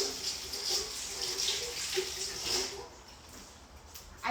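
Running water from a tap splashes steadily over cabbage leaves being rinsed for a spring vegetable ferment, a soft continuous trickle near and alone that tapers off toward the end.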